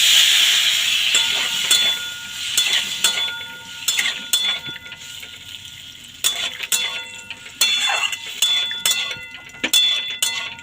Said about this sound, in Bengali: এবার আমি এতে সামান্য পরিমাণে একটু জল দেব